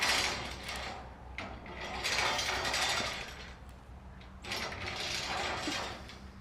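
A bridge crane rolls along its track in a barn shop, producing a continuous rumbling mechanical run with rattling and squeaky surges that rise and fall over several seconds, moderately loud and close.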